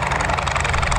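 Two US Navy fighter planes roll down the runway at an airshow, producing a loud, steady engine roar with a deep low rumble and a broad hiss, constant throughout and with no voices.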